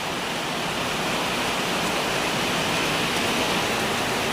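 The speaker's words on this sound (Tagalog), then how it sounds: "Habang lumalakas ang ulan," Heavy rain pouring steadily during outdoor cooking, a dense continuous hiss with no pauses or voices.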